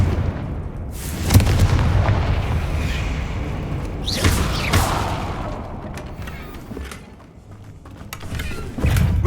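Loud booming blasts from the Confringo fire spell in Hogwarts Legacy, several heavy explosions spread across the stretch with rumbling tails, alone without talk.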